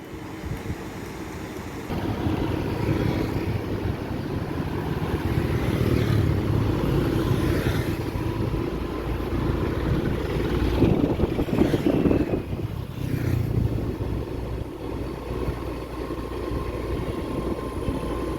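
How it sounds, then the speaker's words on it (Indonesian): Vehicles pass steadily along the busy Lembah Anai road at midday, newly reopened after a two-month closure, a continuous rumble of engines and tyres under heavy wind buffeting on the microphone. "terlihat pada siang hari ini cukup ramai sekali kendaraan yang melintas di kawasan ini"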